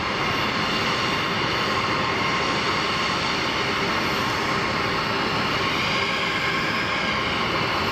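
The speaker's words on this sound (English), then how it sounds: "EasyJet lining up for departure." EasyJet airliner lining up for departure at Geneva Airport, a steady broadband engine roar that stays loud and unchanging throughout, with no talk over it.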